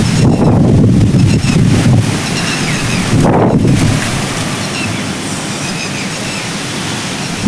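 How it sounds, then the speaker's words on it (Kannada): Strong wind in a cremation ground buffets the microphone with loud roaring gusts that ease off into a steadier rushing noise. "ಸಖತ್ ಗಾಳಿ ಇದೆ."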